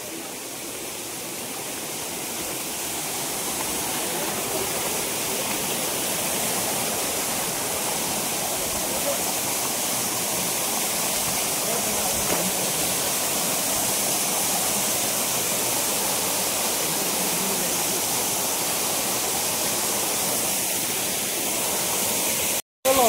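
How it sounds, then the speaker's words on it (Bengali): A waterfall at Burudi Dam near Ghatshila, Jharkhand, roars in a dense, steady wash of rushing water that holds unbroken for over twenty seconds and cuts off sharply at the end. "এখানে এসে ঝর্ণাটা দেখতে পেয়েছি"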